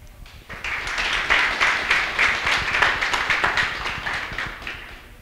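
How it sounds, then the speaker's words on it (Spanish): Audience applause for parents at a book presentation event, a crowd clapping steadily and fairly close, rising quickly and holding an even, dense patter for several seconds before easing off. "O sea que doble aplauso para los padres que asistieron."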